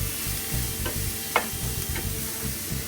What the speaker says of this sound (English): So, fry my onions.